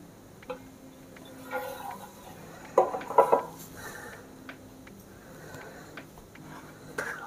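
A baked savory loaf cake is flipped out of its tin, with a cluster of knocks and clinks of the mould against a surface at mid-clip, then lighter scattered taps over a quiet room hum.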